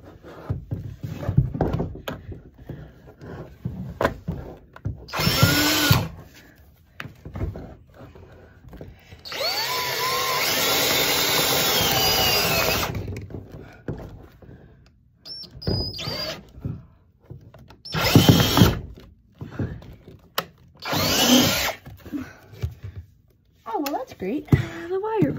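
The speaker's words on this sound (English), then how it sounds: "And then we'll just drill right next to our hole." A power drill bores right beside an existing coax cable hole, whining in several short bursts and one longer steady run near the middle, close and loud, with a person talking in between.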